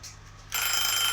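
A timer going off during a timed question-and-answer session, heard as a steady bright electronic ringing tone that starts abruptly partway through and holds loud and continuous with no talk over it.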